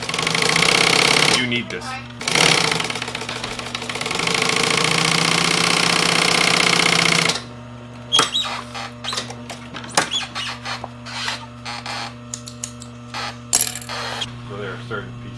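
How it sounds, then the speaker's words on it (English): An industrial sewing machine at work in a motorcycle seat upholstery shop, a loud steady mechanical run for several seconds that then stops, followed by quieter clicks and handling noises while a person speaks briefly. "is what separates this machine from any other industrial sewing machine"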